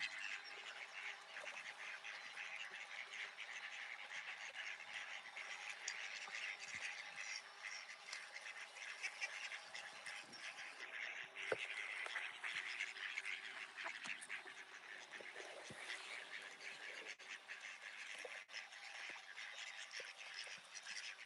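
A dense, steady chorus of duck calls with honking and quacking throughout, busy and close, with no pauses.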